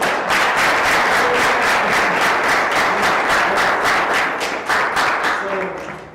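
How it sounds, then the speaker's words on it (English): Audience applause at a youth and women's community gathering, a loud, steady wash of many hands clapping that carries on throughout and thins slightly near the end, with faint voices and cheers underneath. "Can we put a round of applause?"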